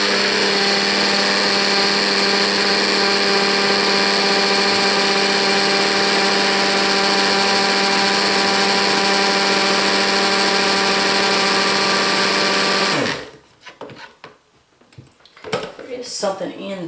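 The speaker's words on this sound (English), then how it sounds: "I know this stick blender is making really like metal," A stick blender mixing liquid soap made from lard, castor oil, coconut oil, lye and kombucha whirs in a loud, steady, high-pitched drone for about thirteen seconds, then cuts off abruptly, leaving faint handling clatter.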